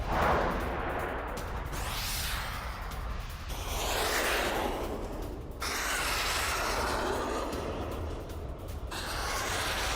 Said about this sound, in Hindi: सेल्फ प्रोपेल्ड गन से रूस पर हमला किया गया।